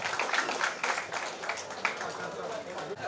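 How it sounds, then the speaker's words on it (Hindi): An alumni association gathering of former B L Ruia students gives a poem performer a round of applause, a steady wash of many hands clapping with voices mixed into the crowd noise. "जोरदार तालियां हो जाए"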